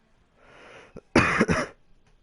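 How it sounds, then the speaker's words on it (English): A soft breathy exhale followed by a short, harsh cough burst, close and fairly loud, then quiet. "I can't stop coughing until like the morning."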